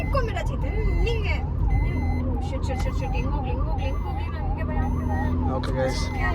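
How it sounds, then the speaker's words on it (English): An ambulance siren wails, rising and falling in a steady repeating cycle, loud and fairly close, over traffic noise with occasional horn-like tones. "Give space to ambulance, Niriksha."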